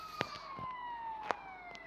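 A faint ambulance siren wails in the GTA V video game, its long tone sliding slowly downward, with a few soft clicks and taps over it and no speech.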